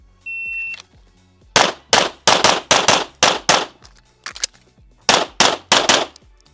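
Pistol shots on a USPSA practice stage, fired in a fast string of about seven loud sharp cracks, a brief pause for a reload, then three more quick shots, with a short beep at the start.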